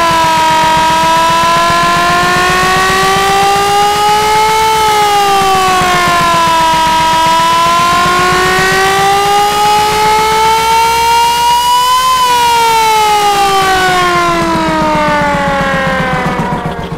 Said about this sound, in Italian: Ora suoniamo la mitica sirena.